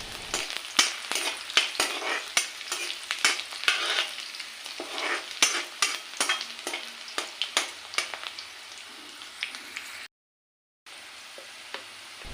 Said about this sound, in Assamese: এইখিনি এতিয়া ভালকৈ ৰঙচুৱা হ'বলৈ মই এনেদৰে লাৰি দিম অকণমান।